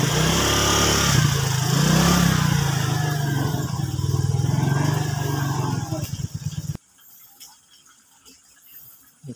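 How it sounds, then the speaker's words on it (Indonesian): A parked motorcycle's engine idles close by with a deep, throbbing rumble, then cuts off abruptly, leaving faint quiet background sound. "Kita motor parkir sini aja."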